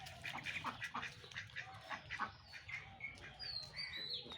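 Farm ducks quack repeatedly in a busy, overlapping chorus while trailing a person at a village pet farm, with bird chirps mixed in and no talking.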